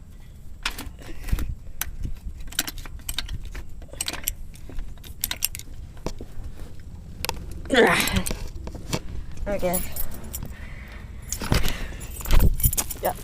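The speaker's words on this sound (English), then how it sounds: "Got my keys here." A set of keys jangles near the mic in a hot 1988 Ford Ranger cab during a tire repair, metallic rattles coming in short bursts over a low vehicle rumble, with a brief spoken word.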